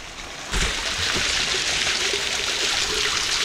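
Water from a waterfall stream being filled into a container: after a brief quiet start, a steady, close rush of flowing water begins abruptly and continues evenly to the end.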